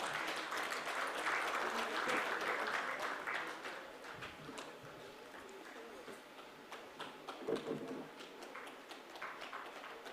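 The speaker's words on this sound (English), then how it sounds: "I expect a big round of applause from the audience again." Applause from the audience at an international watershed conference, loud and dense for the first few seconds, then thinning to scattered claps with a few louder ones, with some voices mixed in.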